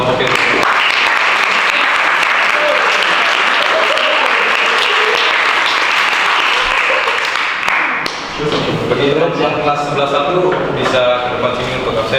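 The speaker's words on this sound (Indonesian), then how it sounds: "Sekali lagi kita berikan tepukan tangan untuk kelompok yang" Loud, dense applause from a school audience after a student group's presentation, continuous clapping for about eight seconds before fading as a voice begins speaking over the tail.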